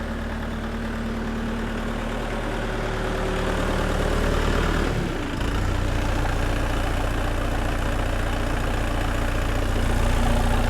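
A Dongfeng 404 tractor engine idles steadily and close by in -10°C cold, a low droning rumble that briefly dips midway, then settles into a deeper, even throb.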